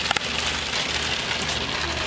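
Rain falling on a makeshift film set rigged with chairs, cinder blocks and black plastic, a steady dense patter with a couple of louder drops near the start.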